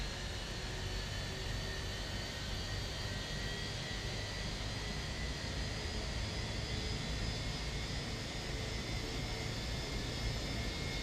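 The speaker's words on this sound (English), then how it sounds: "Engine 2 is started and running good. We'll start engine number 1." A steady, loud jet-engine roar from an airliner engine being started in Microsoft Flight Simulator 2024, holding a constant whine and rumble without pause.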